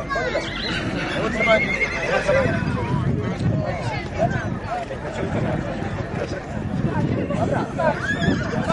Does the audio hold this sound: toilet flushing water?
no